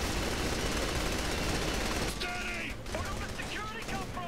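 Gunfire in the video game Saints Row The Third, a dense, loud burst of rapid shots filling the first two seconds before thinning into scattered game effects and clatter.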